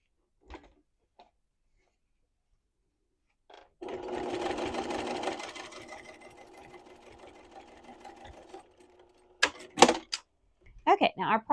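A sewing machine runs steadily for several seconds while stitching through a thick fabric travel case for hair tools, set between a few quiet knocks and some speech-like bursts near the end.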